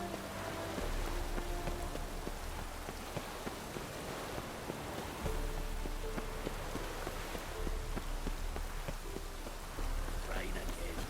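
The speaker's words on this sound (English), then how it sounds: "Rain again." Steady rainfall in The Witcher 3, a soft, even hiss of rain on surfaces with faint game tones layered underneath.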